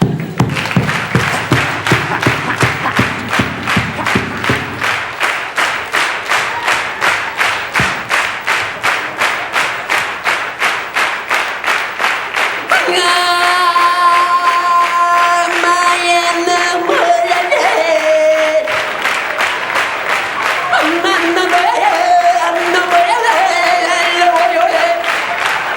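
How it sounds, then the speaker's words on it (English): A stage comedy audience claps along in a fast, steady unison rhythm for the whole stretch, loud and close, with a sung melody entering partway and riding over the clapping. "Come on, clap your hands"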